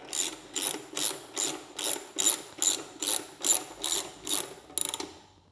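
A small socket wrench ratcheting as it tightens sissy bar bolts on a 2020 Harley-Davidson Low Rider S motorcycle, about eleven even, rapid clicking strokes at close range with no talking.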